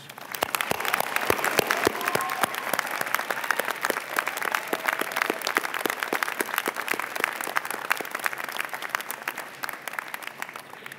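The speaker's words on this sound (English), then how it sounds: "Let's give your families a huge round of applause." A large crowd applauds continuously at a 2024 convocation ceremony, dense clapping that stays loud and steady throughout without any speech.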